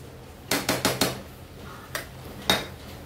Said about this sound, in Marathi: यावरती झाकण ठेवून घेऊया.